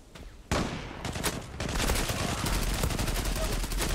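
Loud, sustained chaotic blast and gunfire noise from the online shooter game Zula, starting with a sharp hit and swelling into continuous dense rumble, with a voice faintly underneath.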